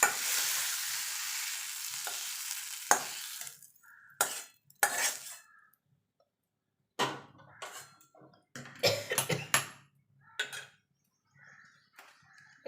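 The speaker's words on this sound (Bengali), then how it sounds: "আলু বেগুন পেঁয়াজ সব এগুলো ভাজা ভাজা করে নিয়েছে" Potatoes, eggplant and onions sizzle and get stirred in a wok, with a steady frying hiss at first, then sporadic clinks and scrapes of the spatula in bursts separated by quiet gaps.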